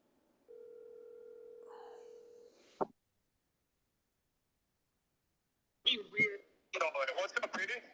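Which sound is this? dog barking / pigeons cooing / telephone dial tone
telephone dial tone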